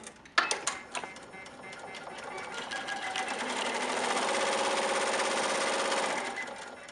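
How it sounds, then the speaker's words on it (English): A HAPPY embroidery machine sews a running stitch for machine-cut appliqué, opening with a few sharp clicks before settling into a fast, steady mechanical chatter that swells and holds, then fades at the end. "we're going to go and just hit start and sew that running stitch"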